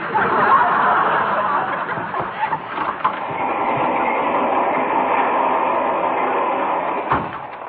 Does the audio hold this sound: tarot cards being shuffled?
no